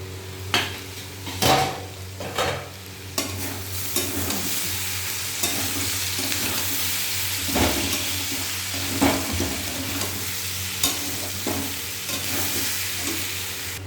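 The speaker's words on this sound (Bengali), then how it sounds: "এবার ঢাকাটা তুলে আবার একটু নাড়া দিয়ে দেবো।" Vegetables stirred in a cooking pot with the lid just lifted, a spoon or spatula scraping and clacking in several distinct strokes over a steady low sizzle, close and moderately loud.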